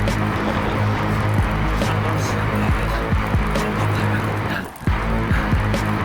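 Cars rolling slowly past a cyclist inside a road tunnel, a continuous loud reverberant engine and tyre rumble with one brief dip near the end.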